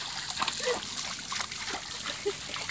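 A Vizsla dog splashes and sloshes in water for the first time, making steady, close watery splatter throughout the short stretch. Faint voices are audible underneath.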